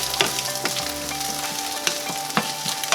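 Onions and eggs fry in a pan with a continuous close sizzle, broken by repeated scraping taps of a utensil stirring and mixing them, with no voices.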